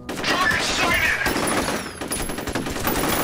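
Gunfire in the shooter game F.E.A.R., a dense burst of rapid shots and loud crashing impacts rattling through the whole stretch, with a noisy blended game mix and a brief lull near the middle.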